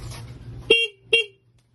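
A Honda Click V3 motorcycle horn gives two short, bright honks in quick succession over a low idling hum, then quiet.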